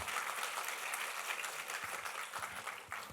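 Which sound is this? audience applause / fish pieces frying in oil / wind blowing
audience applause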